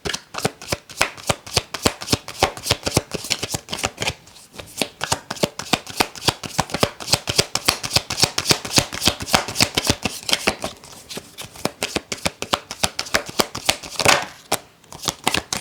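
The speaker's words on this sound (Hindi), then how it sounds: "मैं थोड़े से और कार्ड्स लेना चाहूँगी स्कॉर्पियो साइन के लिए।" Tarot cards being shuffled by hand, a dense run of rapid, crisp riffling flicks with brief pauses between bursts, close and fairly loud, with no talking.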